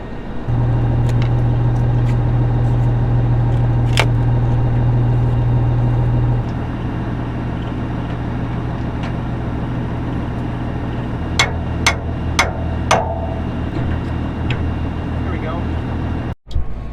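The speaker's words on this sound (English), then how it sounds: "take the tractor, put it in the shed, so that way it's not outside" A farm tractor drives into a shed with a loud, steady engine drone that cuts to a lower rumble, followed by a few sharp clanks and knocks near the end.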